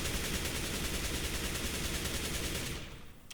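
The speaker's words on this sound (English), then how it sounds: "being crouched, you can kind of keep firing and you'll stay somewhat accurate" Sustained automatic rifle spray from a crouched player in Counter-Strike: Global Offensive, a dense rapid stream of shots firing nonstop, loud and close, cutting off near the end.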